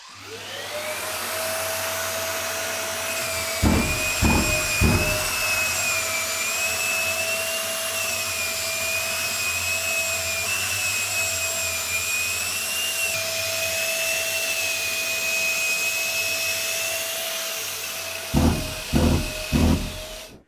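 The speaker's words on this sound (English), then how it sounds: "while I am sanding the ceiling, I can adjust the airflow regulator on the fly to dial in that perfect suction" A drywall sander with dust suction whines steadily with a strong suction roar while sanding a ceiling, a few sharp knocks near the start and end, and no talking.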